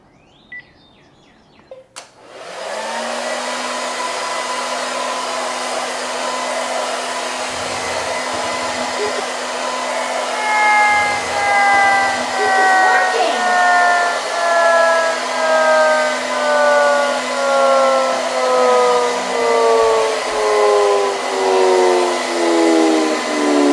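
A hot air hair dryer switches on with a click and runs loudly and steadily, its whine holding a constant pitch before a gliding harmonic sweep and a rhythmic pulsing creep in over the long run.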